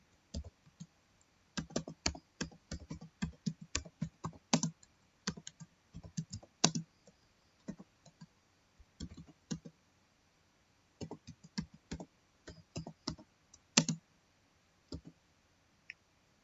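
Rapid keystrokes on a computer keyboard while a file name is entered, irregular bursts of close, crisp clicks with short pauses between words, no talking.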